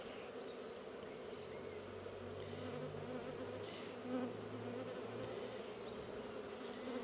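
Dense, steady hum of a large mass of honeybees crowding around an overflowing hive during a spring inspection, a continuous close buzzing drone with a few individual bees passing near.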